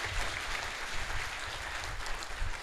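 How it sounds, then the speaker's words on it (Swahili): A church congregation at an ordination service bursts into brisk, dense applause, many hands clapping steadily and loudly throughout the short stretch, with no pauses. "Mpe makofi mazuri"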